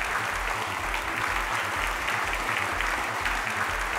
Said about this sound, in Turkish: Alkışlarınızla Gülşah Doğan geliyor.